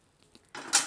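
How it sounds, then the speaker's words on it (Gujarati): A fried nylon poha mixture for chevdo is tipped into a large vessel, a short near rustling scrape and clatter of flakes sliding out, rising sharply in the last half second. "આને આપણે કાઢી લેવું કોઈ પણ મોટા વાસણમાં, આ રીતે કાઢી લેવાના"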